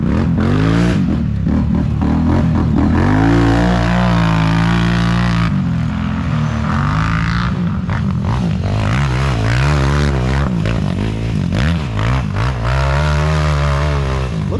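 A Yamaha YFZ450R four-wheeler with a new engine runs loud and close throughout, its motor droning steadily with rising and falling revs and no talking.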